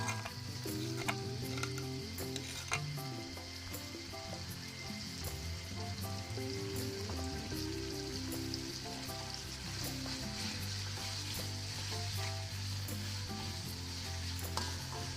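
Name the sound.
ground spice paste frying in hot oil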